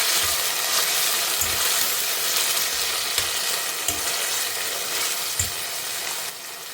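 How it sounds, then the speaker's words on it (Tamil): Green peas and tomato sauté in a pan with a continuous bright sizzle, and spoon strokes and soft knocks against the pan land every second or so. "இதோட பச்சை பட்டாணி, இதோட தக்காளி, இதை நல்லா வதக்கிக்கலாம்"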